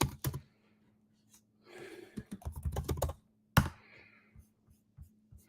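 Keys clatter on a computer keyboard as an address is typed in, short bursts of quick taps separated by pauses, fairly close, with a low steady hum underneath.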